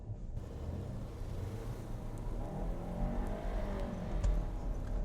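A 2019 VW Tiguan with all-wheel drive in snow mode launches on a snow-covered road, its engine rising from a low rumble to a steady, moderate revving climb.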